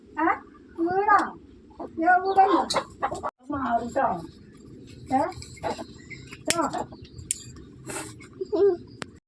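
Chickens around a home cluck repeatedly at close to moderate distance while a person talks over them and a voice occasionally joins in.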